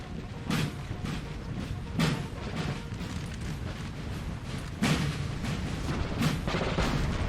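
Booming artillery fire on a Napoleonic-era battlefield in Total War, several heavy cannon blasts landing at irregular intervals, some near and loud, over a continuous low rumble of battle.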